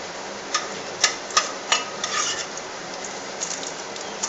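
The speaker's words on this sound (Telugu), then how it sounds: "ముందు ఎండుమిరకాయలు వేసేస్తున్నాం అన్నమాట." Dried red chillies hit hot oil in a pan for a potato, onion and green chilli curry, sizzling steadily, with a few sharp clinks of a spoon stirring close by.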